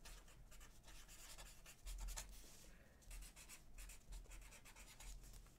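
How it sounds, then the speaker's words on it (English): A pen writing a name in black ink on paper, producing very faint, close scratchy strokes in short repeated bursts against a quiet background. "what you're going to do is you're going to write down the target's name"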